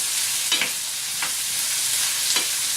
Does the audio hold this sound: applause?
no